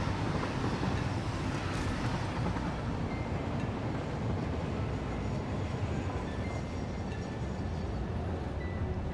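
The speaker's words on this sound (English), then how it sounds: "Go, train, go." A video game train rolls along rails with a steady, loud rumbling wash that holds without a break and no talk over it.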